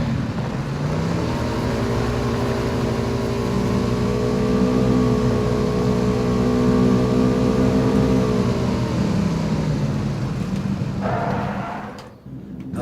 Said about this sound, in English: So the next thing we're going to be testing is vehicle noise. So this is the live server on a bike.